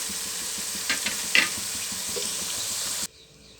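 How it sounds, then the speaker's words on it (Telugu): Onions fry in a pan for a Telugu fish curry, giving a steady, close sizzle with a few brief stirring scrapes before the sound cuts off sharply near the end. "ఆనియన్స్ ఏగుతున్నాయి కదా"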